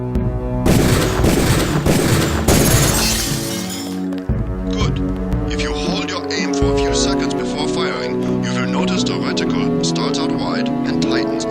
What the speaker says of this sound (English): Release the first target and take a few shots with one of the pistols until it is destroyed.